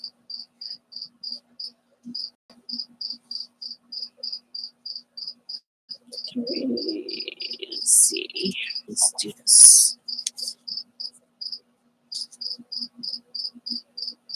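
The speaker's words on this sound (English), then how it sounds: "you're hearing the cricket. Yes, we have one in the house." A cricket indoors chirps in a steady, rapid series of short pulses throughout, pausing briefly while someone speaks and things rustle nearby.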